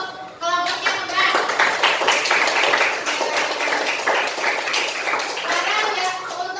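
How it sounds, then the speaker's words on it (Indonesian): A classroom group receives applause from fellow students after finishing their presentation, with dense, steady clapping from many hands that starts abruptly and holds loud for several seconds, with a few young voices mixed in. "boleh kita kasih aplaus untuk kelompoknya"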